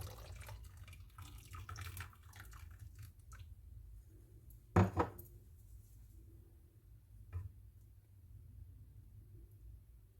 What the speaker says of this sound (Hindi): 4 टेबलस्पून सिरके में 4 टेबलस्पून पानी डाला है, दूध में डालेंगे और हल्का हल्का हिला लेंगे